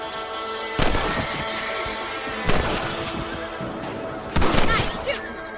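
Rifle shots at rabbits in the Western game Red Dead Redemption: three loud, sharp cracks spaced about two seconds apart over a steady background of horse whinnies and game ambience.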